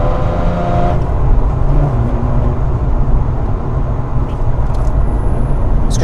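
A 2007 Mazda RX-8 with its 13B rotary engine accelerating, a loud steady buzzing drone heard from inside the car that holds a constant rising whir throughout, with no talking.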